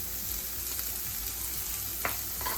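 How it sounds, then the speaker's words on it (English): Scallions sizzling in a frying pan while cooking fried cod fish, a steady moderate hiss with faint stirring ticks and one brief sharper crackle. "I'm also going to go ahead now and add my scallions"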